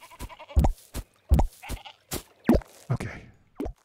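Sheep in the video game Down in Bermuda bleat in a quick series of short, punchy calls, about eight in under four seconds, loud and separated by brief silences.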